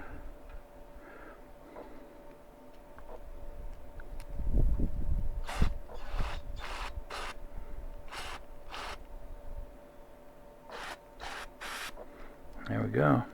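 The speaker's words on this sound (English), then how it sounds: "I'm going to blow it out with some carb cleaner" Carb cleaner sprayed into the pilot tube of a Mr. Heater Buddy heater in a series of short, hissing bursts, some close together and others spaced apart, over a low background.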